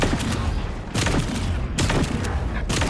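Gunfire rattles through a Wildgate match, repeated loud bursts of shots in quick volleys with brief gaps between them, booming and close.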